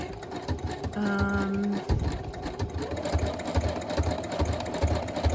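A sewing machine stitches a writing board for summer journals. A steady, close whirring comes in bursts with a brief high motor whine, followed by a rhythmic mechanical thump of the needle, with no talk.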